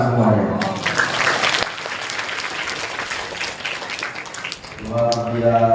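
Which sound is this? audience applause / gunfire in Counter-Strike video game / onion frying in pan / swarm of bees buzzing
audience applause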